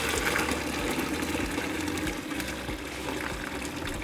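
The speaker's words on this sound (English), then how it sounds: "after 10 minutes, I'm going to drain the vegetables." Vegetables for curtido drained in a kitchen, giving a steady, loud gush of running water that pours without a break for several seconds, with no talk.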